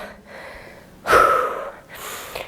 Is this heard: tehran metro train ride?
no